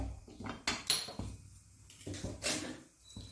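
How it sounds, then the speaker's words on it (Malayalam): A cooking pan set down on a home stove with sharp metallic clanks and clatter, several knocks of metal on metal close by, no voices, while a tomato curry is started. "ഒരു പാൻ അടുപ്പത്ത് വെച്ചു സ്റ്റവ് കത്തിച്ചിട്ട്"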